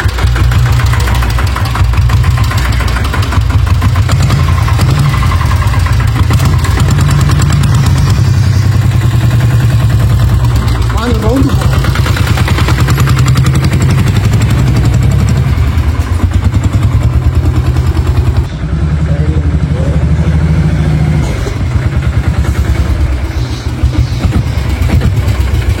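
An old diesel Royal Enfield Bullet motorcycle engine runs continuously with a loud, deep, knocking thump, close by and steady throughout with no voices.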